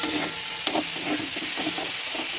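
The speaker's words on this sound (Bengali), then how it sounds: "তো এখানে আমার পেঁয়াজটা ভাজা হয়ে গেছে, আমি এখানে রসুন তুলে দিচ্ছি" Garlic tossed into onions already frying in a pan, a steady close sizzle with scraping stir strokes every fraction of a second and one brief sharper knock, no voices.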